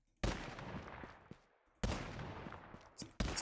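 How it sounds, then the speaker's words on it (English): Loud in-game gunshots from a Call of Duty Zombies-style shooter built in Unreal Engine 5: a few sharp, booming blasts spaced about 1.5 seconds apart, each trailing off in a short echoing tail, with no voices. "it's kind of hard to hear because it is quite a loud shot"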